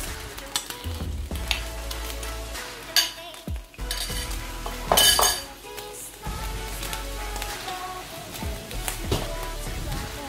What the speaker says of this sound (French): je vais venir avec ma cuillère en bois bien diffuser mes crevettes un peu partout dans ma poêle